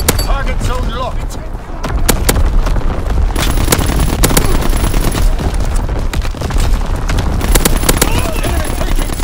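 Artillery barrage in Call of Duty: WWII on the Shipment 1944 domination map: dense, continuous blasts and rapid gunfire crackle throughout, with game voice lines heard over the din.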